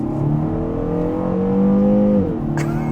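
Kia Cerato GT 2022 hot hatch with a dual-clutch gearbox revving hard under acceleration, engine note climbing steadily then dropping sharply at a gearshift with a brief crackling burst, loud and close, no talking.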